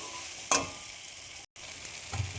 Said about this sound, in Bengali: এবার গরম জল ঢেলে দেবো, অল্প করে গরম জল দিলাম।